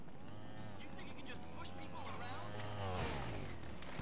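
Engine of a motorcycle in GTA 5 Online, a low steady drone with a rising and falling whine, heard under continuous excited talking.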